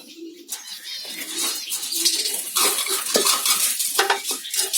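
Clay pot nests are opened and handled in a Java sparrow colony, with close rustling and clattering plus bird chirps and calls, moderately loud.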